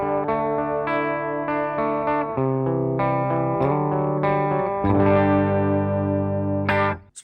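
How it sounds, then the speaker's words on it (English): Clean electric guitar played through a 6L6 tube combo amplifier, miked with a condenser and no added reverb, sustained chords ringing out one after another, bright and full, alone with no talk. "Here's the clean tone of the amplifier."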